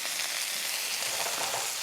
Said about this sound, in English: we're just going to leave it to cook the other side for a few minutes